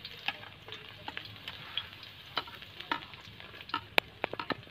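Garlic fries in hot cooking oil for adobong kangkung, a quiet, crackling sizzle peppered with irregular sharp spits and ticks, close but faint, with no talking.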